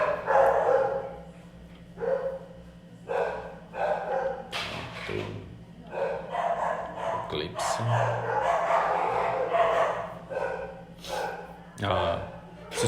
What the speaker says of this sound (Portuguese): Se escutarem meus cachorros latindo, não estranhem